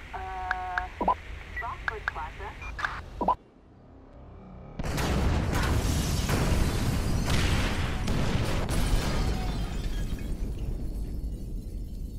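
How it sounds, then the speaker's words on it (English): Fire bombs going off in GTA V: after a short hush, a loud crackling eruption bursts in and keeps roaring with popping, shattering debris, following earlier chirping electronic tones under a voice. "trigger the fire bombs, Frank"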